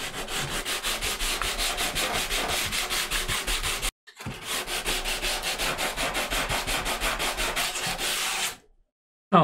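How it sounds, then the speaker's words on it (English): Sandpaper rubbed back and forth over the starboard side wooden deck planking of a 1/250 scale Yamato battleship model, a rapid, even rhythm of close, loud scratchy strokes, with a brief pause midway and silence at the end. "So now I just going to have a final sand."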